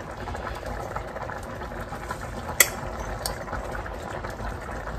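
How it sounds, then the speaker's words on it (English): Hamburgers for smothered hamburgers simmer in their pan juices with a faint, steady bubbling sizzle, broken once by a brief sharp clink. "So what I'm going to do now is put my hamburgers back in."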